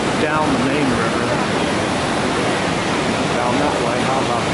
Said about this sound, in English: You can see there's this rushing, this rushing torrent here.